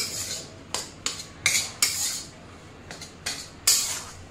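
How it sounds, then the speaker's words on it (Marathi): Flour being stirred and roasted in ghee in a pan, with repeated scraping strokes of a spoon against metal coming in an irregular rhythm, close and moderately loud, with no voices. "आणि सतत असं मिक्स करत हलवून घ्यायचं आहे"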